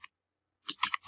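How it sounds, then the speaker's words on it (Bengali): Shift+Alt+Down Arrow pressed on a computer keyboard, a single faint click followed after a pause by a quick cluster of soft key taps close by. "আমি কিবোর্ড থেকে শিফট অল্টার ডাউন অ্যারো চেপে এই লাইনটিকে কপি করলাম"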